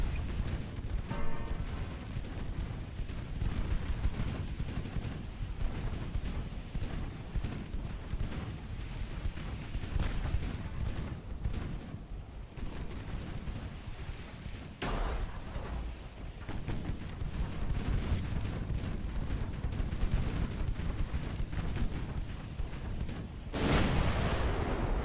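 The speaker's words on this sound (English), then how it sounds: "there's gunfire coming from back in this direction" Naval gunfire from warships in the Ultimate Admiral: Dreadnoughts battle game: several distant, booming shots land at scattered moments over a steady roar like wind and sea.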